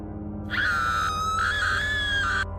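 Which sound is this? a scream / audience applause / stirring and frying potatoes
a scream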